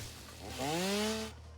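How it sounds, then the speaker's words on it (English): Chainsaw in the factory-building game Satisfactory, revving up sharply for under a second with a rising buzzing whine, then cutting off abruptly, over a low steady hum. "Missed the chainsaw."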